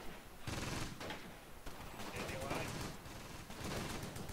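Mortar and small-arms fire in the wartime strategy game Close Combat, a dense run of bursts and rattling shots at moderate distance, low in level with a voice speaking over it.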